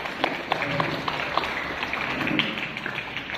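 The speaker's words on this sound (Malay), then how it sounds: "Jadi tepukan untuk ibu bapa yang hadir." An audience at a school prayer ceremony claps for the parents in attendance, a fairly soft, continuous patter of many hands heard from a distance.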